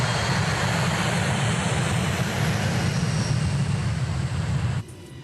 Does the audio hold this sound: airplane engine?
yes